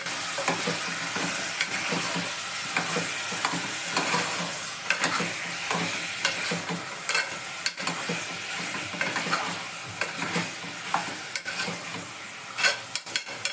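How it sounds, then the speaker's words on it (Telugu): Half a kilo of washed mutton being stirred in a hot pan for Telangana-style mutton curry, a dense steady sizzle broken by repeated spoon scrapes and clinks against the pan, close and loud. "మటన్ అంతా మళ్ళీ ఒకసారి కలుపుకుందాం."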